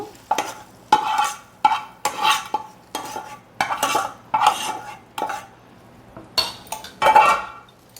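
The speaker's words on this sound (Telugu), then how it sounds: "ఇప్పుడు ఈ మిశ్రమాన్ని పెరుగులో కలిపేసుకుందాం" A spoon stirs a cooked tomato mixture into curd in a metal bowl, giving a steady series of close scraping clinks in rhythmic strokes with no voices.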